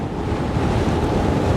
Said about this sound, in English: Doing range tests when it's windy sucks